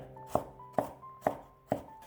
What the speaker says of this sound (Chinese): 几瓣去皮的大蒜切成小碎丁